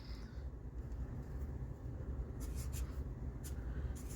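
A Sharpie marker squeaks across a Post-it pad in a few short, close strokes, faint over a steady low room hum.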